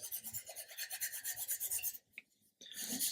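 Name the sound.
flexi file sanding plastic model edge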